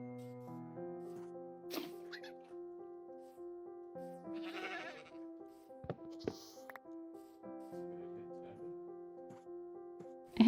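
Several goats, including baby goats, bleat in wavering, nasal cries in Minecraft, some overlapping, with a few soft knocks and thumps between calls in a quiet setting.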